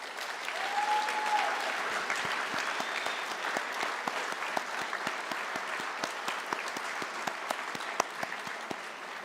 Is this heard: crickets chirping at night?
no